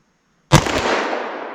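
A single sharp gunshot from a .327 Federal Magnum snub-nose revolver firing Buffalo Bore ammunition outdoors, loud and close, with a long rolling echo that trails off for over a second.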